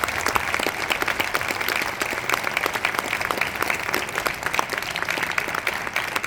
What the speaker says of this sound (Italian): vi chiederei di accoglierli con un applauso caloroso, Daniele Serra e Piergiorgio Pulici